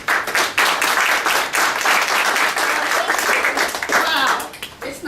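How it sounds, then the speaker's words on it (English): An audience claps and applauds at a presentation, a dense, loud burst of many hands that runs steadily before thinning out toward the end. "It's not often that I get an applause before my presentation."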